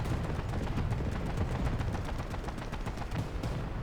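A Stuka dive bomber's rear gunner firing a machine gun in a tank video game, a steady rapid clatter of distant shots over engine rumble, running without pause and with no talking.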